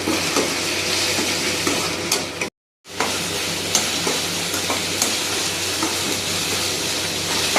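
Curry leaves sizzling and spitting in hot oil for Guntur chicken, a loud, steady crackling hiss close up with a brief cut of silence partway through.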